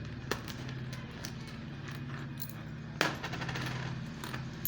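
Old coins, including a 1985 Pakistani coin, are handled and set down, producing sharp metallic clicks and clinks at irregular intervals over a quiet background, with one louder clink near the middle.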